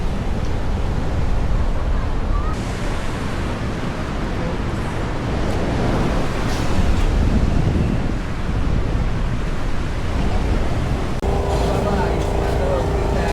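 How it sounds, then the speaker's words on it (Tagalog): Ocean waves breaking on a La Union beach, a continuous loud wash of surf mixed with heavy wind buffeting the microphone, with a voice speaking faintly underneath. "Relax ng alon."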